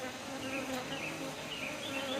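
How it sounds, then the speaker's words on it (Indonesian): Honeybees buzzing agitatedly around the lid of a hive, a dense continuous drone with individual wingbeats weaving past close by, steady and fairly quiet, with no talking. "Cuma di sini lebah langsung nyerang"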